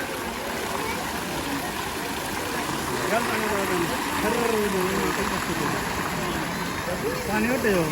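Water splashes and sprays steadily in a garden, a constant rushing wash heard under people talking.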